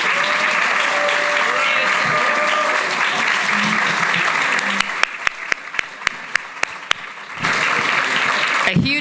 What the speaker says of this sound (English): A huge round of applause for Paul.